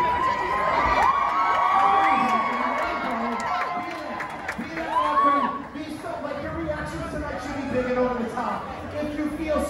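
A television studio audience yells, cheers and screams together in a sustained, loud roar of overlapping voices and whoops that rises and falls without pause.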